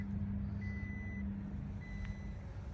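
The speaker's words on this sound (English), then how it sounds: "can you hear the beeping noise? That's just to tell me I've left the key in the ignition" Two faint, steady electronic key-in-ignition warning beeps sound over a low engine idle hum inside a 2017 Toyota Hilux 2.4 D4-D pickup truck, with no one speaking.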